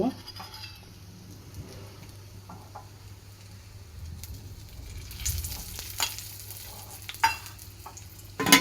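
Ghee sizzles in a hot pan as food is stirred, with soft scraping and stirring sounds over a low hum that grow busier and louder toward the end.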